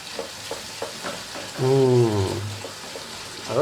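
Onion and garlic chutney sautés in hot oil for Kathiyawadi sev tameta with a steady close crackle and hiss, and a brief tonal whine rises over it midway.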